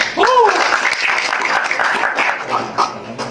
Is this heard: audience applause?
yes